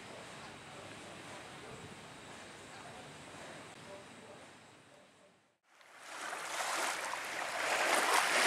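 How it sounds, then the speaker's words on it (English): Waves on Lake Erie break in a steady rushing wash. The sound dips briefly to near silence, then returns louder and hissier with wind buffeting the microphone. "the waves out there right by that flag are just acting in a very erratic manner"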